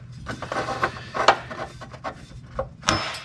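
A tie-in bracket scrapes and slides up into a Sprinter van chassis frame, giving short rubbing metal scrapes and knocks in a quick, uneven sequence close by.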